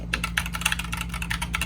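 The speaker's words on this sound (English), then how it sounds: "it's not that loud of a keyboard." Typing on a TMKB GK61 mechanical keyboard, a string of fairly quiet, quick keystroke clicks in an uneven rhythm, close up over a steady low hum.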